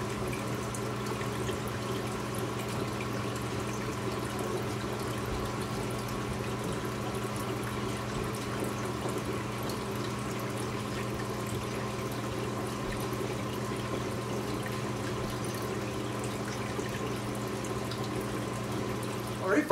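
Steady stream of water filling a 20-gallon reef aquarium, a continuous even rush and gurgle held at constant level throughout, close by with no breaks.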